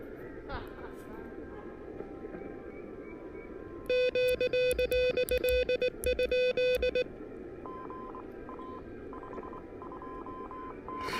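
Amateur radio reception on a portable station, with a burst of rapid tone bursts and beeps standing out over a steady hiss of static, followed by fainter tones, at moderate loudness.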